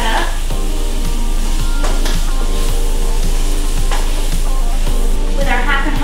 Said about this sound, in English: add 1 tablespoon of butter, the flour, I'm gonna go ahead and mix that up